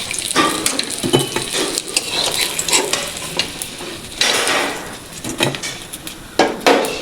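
Rohu fish frying in oil, a constant sizzle broken by clatters of a metal utensil against the pan, close and fairly loud.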